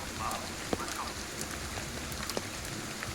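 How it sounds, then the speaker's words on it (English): Steady rain falling in the video game Ghostwire: Tokyo, a soft, even hiss of drops on surfaces with a few brief louder taps, continuous and fairly quiet throughout. "The rain feels kind of fake a little bit in a weird way."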